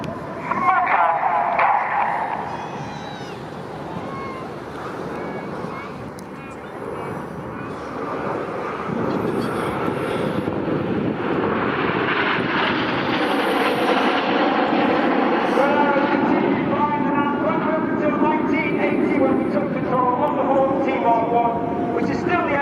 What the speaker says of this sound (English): The Hawk is actually 50 years old this year, an extremely agile and capable aeroplane